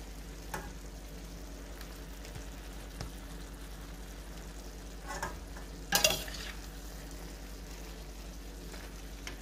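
Oyster mushrooms, sweet peppers and onions sautéing in a pan give a low, steady sizzle throughout, with a few brief louder clatters of stirring partway through; no one speaks.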